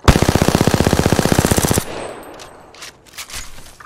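Machine gun fire in the video game Apex Legends, a loud, rapid burst of evenly spaced shots for nearly two seconds, then quieter scattered game sounds and distant effects.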